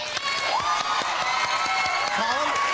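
A studio audience at an improv comedy show cheers, whoops and applauds loudly and continuously, with shouts rising over the sustained roar of the crowd.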